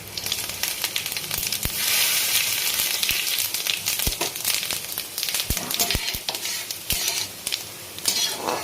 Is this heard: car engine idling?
no